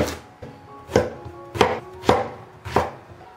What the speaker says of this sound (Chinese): 先把这个蒂头给它切去，再清洗干净。 然后给它切成小条。